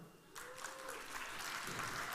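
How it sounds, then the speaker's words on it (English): An audience at an academy victory event breaks into applause, a dense patter of clapping that starts abruptly and holds steady at moderate distance. "Big round of applause, everybody, for Mr. Chopron."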